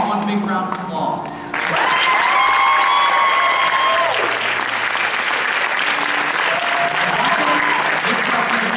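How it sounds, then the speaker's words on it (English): An audience at a live show applauds loudly and continuously, with an announcer's voice and music-like tones rising over the clapping. "Let's give them all one big round of applause."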